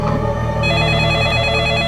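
A telephone rings steadily and loudly for about two seconds, a continuous electronic ring with no voices over it.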